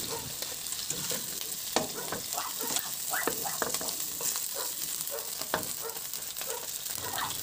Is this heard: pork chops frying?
yes